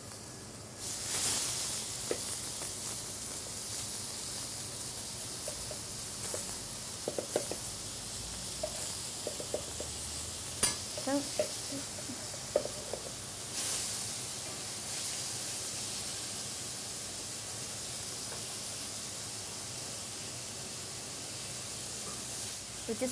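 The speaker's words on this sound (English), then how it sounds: "We're just going to stir the Quorn now for about 10 minutes." Quorn pieces frying in a pan for a curry are stirred, with a steady soft sizzle and hiss and occasional scrapes and clinks of the utensil, fairly quiet throughout.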